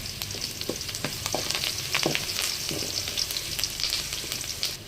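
Crushed garlic and curry leaves sizzling in hot oil, a bright, crackling fry with scattered pops and occasional stirring scrapes, close and steady throughout.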